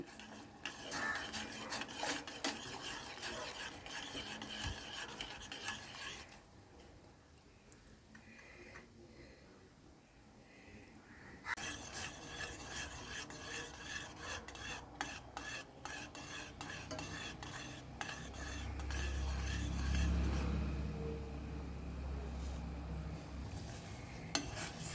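Roasted vermicelli cooking in a pot of water is stirred with a spoon, giving faint, steady scraping and rubbing against the pot with a soft bubbling simmer beneath and no talk.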